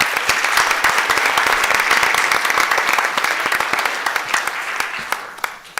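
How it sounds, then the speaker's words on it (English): A roomful of people at a school board meeting claps together in a dense, loud burst of applause that holds steady, then thins out into scattered individual claps as it fades. "So a round of applause for all of you."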